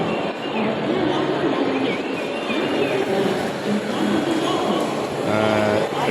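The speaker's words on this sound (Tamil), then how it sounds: "ட்ரெயின்லாம் வந்துட்டுருக்கு, பார்த்துருங்க." Steady rumbling of a train rolling along the rails into Churchgate station, Mumbai, with squealing and clanking mixed into the loud, continuous noise.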